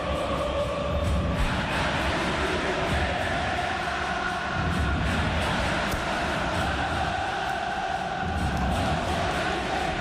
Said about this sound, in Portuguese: É impressionante o barulho que faz o torcedor do Inter aqui